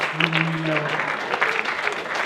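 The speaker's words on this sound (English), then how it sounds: "let's give some sympathy applause" Sympathy applause from an audience, a steady patter of clapping with a brief sustained tone mixed in near the start.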